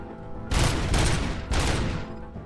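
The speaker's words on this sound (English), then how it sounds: "I'm trying to scan, but I keep firing my weapon" Weapon fire in RoboCop: Rogue City comes in three loud, close bursts of rapid shots, each roughly half a second apart and separated by brief gaps, with no talking.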